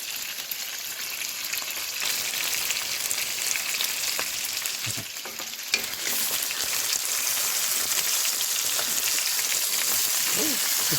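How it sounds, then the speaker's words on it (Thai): Fermented fish dipped in egg frying in hot oil, a dense, steady sizzle and crackle close up, with occasional spatters and light stirring scrapes throughout. "ปลาส้มชุบไข่ทอด"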